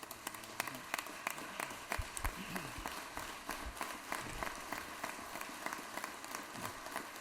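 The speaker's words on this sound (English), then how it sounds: "let's give Senator Beach a big round of applause here" A crowd in a state senate chamber claps for a senator, dense steady applause with crisp individual claps throughout, fairly close and sustained without talk.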